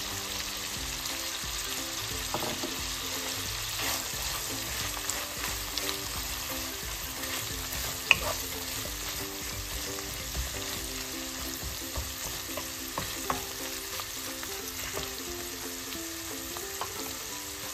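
Porcini mushrooms and Calabrian sausage fry in a pan with a steady, even sizzle and crackle and occasional faint stirring clicks, close and moderately quiet, with no voices throughout.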